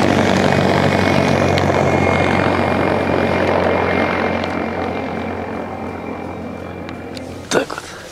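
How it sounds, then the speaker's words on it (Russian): A helicopter passes overhead outdoors, its loud steady rotor and engine drone filling the scene and slowly fading, ending with a brief clunk nearby. "Ну и там вертолет летит, подожди."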